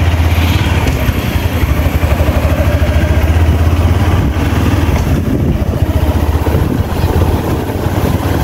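A Yamaha Saluto motorcycle engine runs loud and close as it is ridden along a village road, a steady pulsing mid-pitched drone that carries on without a break.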